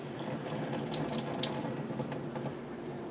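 Water from soaked dehydrated apple and orange pieces pours and splashes steadily into a sink, a continuous close rush with small droplet patters and no talking.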